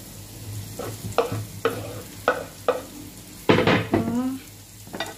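Mushrooms frying in a pan, stirred with repeated sharp scraping clacks of a utensil over a low sizzle, close and rhythmic, with a louder clatter near the end.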